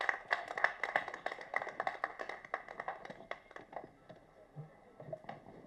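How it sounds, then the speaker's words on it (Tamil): Scattered hand claps from an audience at a film audio launch event, fairly faint and uneven, with individual claps distinguishable rather than a full roar. "ஒரு பலத்த கைத்தட்டல் கொடுத்து அவரை கூப்பிட்டுடலாம்."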